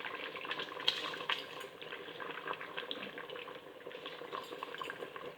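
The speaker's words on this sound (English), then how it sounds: "I'm going to drop the soaked rice into it." Soaked rice tumbles into a pot of simmering vegetables for a restaurant-style vegetable biryani, followed by steady stirring with a spoon, giving a continuous wet scraping and sizzling texture at close range without talk.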